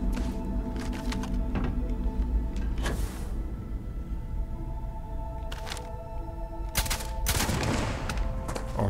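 Bursts of rapid gunfire in the video game Starfield crackle repeatedly over a constant droning background, with several loud volleys clustered toward the end.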